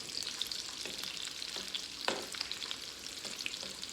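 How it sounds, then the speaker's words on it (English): Smoked sausages fry in hot oil with a constant close crackle and sizzle. Sharper pops and spits come through now and then, and no one speaks. "So now in that same oil, our sausages are looking golden."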